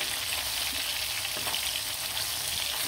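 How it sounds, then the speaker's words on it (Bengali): River karkhu fish frying in hot oil, a steady, close, moderately loud hiss and crackle with no talking. "মাছগুলো ভাজা ভাজা হয়ে গেছে,"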